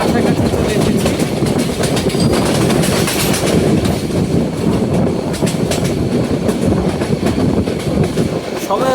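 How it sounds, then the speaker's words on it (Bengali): A Cox's Bazar Express train speeds through Bhairab Bazar junction at night, giving a loud, continuous rumble with rhythmic wheel clatter over the rails throughout. "আমাদের ট্রেনটি এখন দুরন্ত গতিতে ভৈরব বাজার জংশন রেল স্টেশন ক্রস করে যাচ্ছে।"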